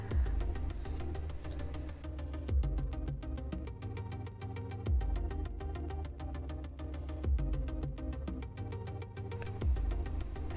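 A factory Mini John Cooper Works Hardtop exhaust drones steadily in the background, rising in rhythmic swells roughly every two and a half seconds, heard faintly and without talking.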